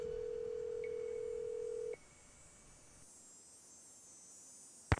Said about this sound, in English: Okay, let's call the Hardy Boys